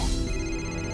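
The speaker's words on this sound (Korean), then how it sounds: "벨소리가 울려 퍼진다." A mobile phone ringtone rings close by in a quiet indoor setting, a steady sustained electronic tone continuing for the full second with no voices over it.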